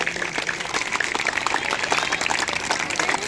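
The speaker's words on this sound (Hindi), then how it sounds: "जोर से तालियां उनके लिए लगाएं" A crowd at a Christian action committee meeting in Rohtak applauds steadily for an apostle, a dense, continuous patter of clapping that holds at even loudness throughout.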